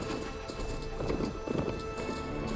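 A robotic bull machine in Horizon Forbidden West thuds along in a steady run of heavy clip-clopping hoofbeats, over a constant rumbling game ambience.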